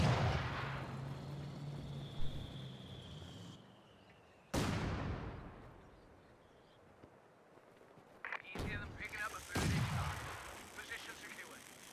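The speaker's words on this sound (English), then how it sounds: "Some more howitzer fire." In the Company of Heroes 2 video game, howitzer artillery fires in sharp booming blasts with long rolling decays, several shots spaced seconds apart over continuous battlefield background noise.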